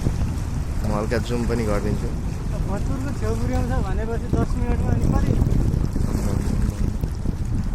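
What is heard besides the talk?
boat moving through water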